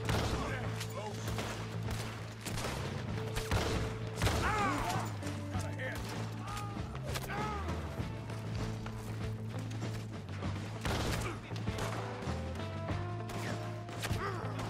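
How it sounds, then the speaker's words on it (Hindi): Gunfire in Red Dead Redemption 2 comes as repeated sharp shots and crashes scattered through a steady game background, with a person talking over the action. "ओके बहुत गोलियां पड़ गई।"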